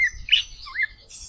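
An oriental magpie-robin (kacer) gives short bright chirps and a rising whistled note, fairly close and clear over a low background rumble.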